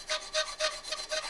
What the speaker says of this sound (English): come back in with a little bit newer file and file just until the corners